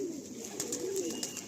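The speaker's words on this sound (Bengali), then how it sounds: "খুব সুন্দর কালো পায়রা না, সুন্দর পায়রা খুব কমই পাওয়া যায়" A black pigeon coos softly and steadily close by, a brief low murmuring call with faint background hiss.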